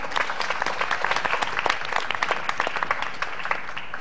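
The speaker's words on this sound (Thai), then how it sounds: "ขอเสียงปรบมือให้กับมิสเตอร์มิวสิกครับ" A studio audience claps for the backing band on a Thai television show, steady, dense applause that holds at an even level throughout, with no voices over it.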